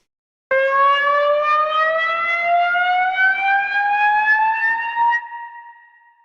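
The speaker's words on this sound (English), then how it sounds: "Alarm." A sampled alarm siren effect in Cakewalk by BandLab starts abruptly, holding a loud steady electronic wail with slowly rising pitch for about five seconds, then fading out.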